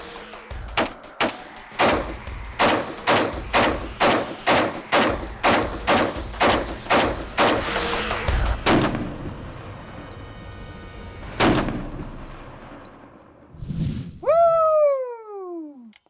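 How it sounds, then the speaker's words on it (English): A .308 bullpup rifle fires a rapid, evenly spaced string of about sixteen loud sharp shots over several seconds, then falls quiet before a high, sliding whoop of a voice at the end. "Let's just shoot it and show you what it looks like."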